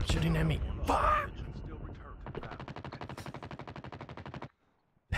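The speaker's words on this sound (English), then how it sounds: "No, stop shooting at me." Rapid automatic gunfire from Call of Duty Mobile rattles in a steady, fast burst lasting a couple of seconds, then cuts to near silence, preceded by louder mixed game noise and effects.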